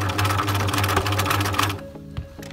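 Sewing machine stitching fabric for a pencil case, a loud continuous close whir of rapid needle strokes that stops abruptly, followed by a few small mechanical clicks.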